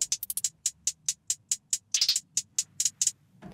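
A crisp, bright trap hi-hat loop in HALion 7, rapid ticking bursts with quick rolls, played alone at moderate volume over faint low hum.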